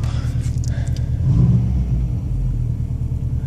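Car engine idling after a cold start, a steady low rumble with a slight swell in the middle, close by and alone without talk.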